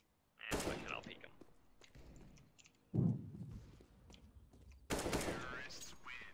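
Gunfire in a first-person shooter game, three sharp bursts of shots spaced a couple of seconds apart, loud and close, with quieter clicks and faint background sounds between them.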